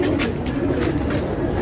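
Pigeons cooing close by near a net trap, a steady loud chorus of soft throaty coos overlapping continuously with no talk.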